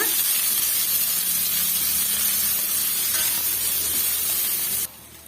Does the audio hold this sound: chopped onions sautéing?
yes